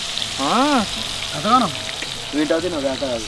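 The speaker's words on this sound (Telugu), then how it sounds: "చేపలను మంచిగా ఇట్లా ఫ్రై చేస్తుంది" Fish frying in a pan gives a steady, close sizzle throughout, with short rising and falling whistle-like tones heard over it.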